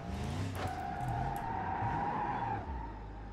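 Car in BeamNG.drive multiplayer doing a handbrake donut, with loud sustained tire skidding and squealing over the engine, which drops off near the end.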